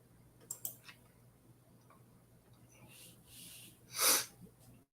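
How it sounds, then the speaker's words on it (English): A few quiet ticks and sniffs lead up to one loud, sharp sneeze near the end, close by. "I'm gonna sneeze."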